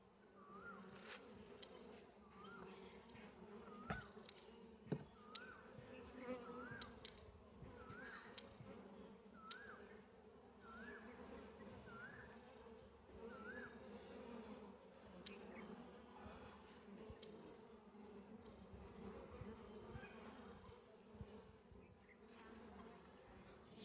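Honey bees swarm over a beehive frame during a hive split, a steady, close buzzing drone with individual bees whining past, and a few soft knocks and handling sounds.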